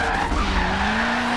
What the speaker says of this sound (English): This is a lot of drifting, though, and this is definitely gonna be a very high speed turn